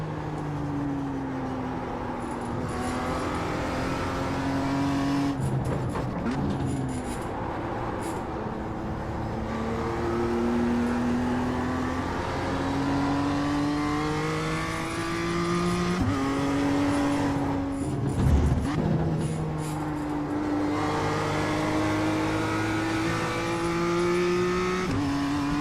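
A BMW M2 race car in iRacing laps Lime Rock Park, its engine droning and rising through the gears with brief dips and shifts under braking, steady and close throughout.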